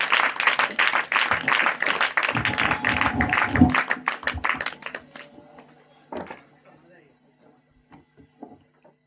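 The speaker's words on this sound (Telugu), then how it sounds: "దైవజనులను బట్టి చప్పట్లు కొడుతూ దేవుని మహిమపరుస్తూ మనం ఆహ్వానిద్దాం" A church congregation claps to welcome the preachers at a Telugu apostolic prophetic ministry gathering in Jayashankar Bhupalpally district. Dense, loud clapping fills the first few seconds, thins out and fades to scattered sounds, with voices mixed in.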